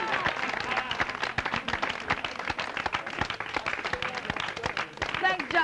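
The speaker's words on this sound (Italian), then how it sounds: "Facciamo allora un applauso a Linda che ha fatto questi regali." A studio audience at an Italian TV show applauds, uneven rippling claps that swell and fade, with some talking layered over the clapping.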